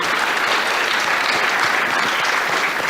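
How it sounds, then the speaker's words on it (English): A steady round of applause from a large audience, dense and even clapping throughout with no voices standing out. "Maybe a quick round of applause for them."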